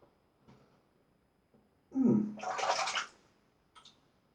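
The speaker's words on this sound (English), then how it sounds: "So here we're going to wet the razor," A single-edge safety razor is rinsed under a running tap, a brief close hiss and splash of water lasting about a second amid otherwise quiet surroundings with a few faint clicks.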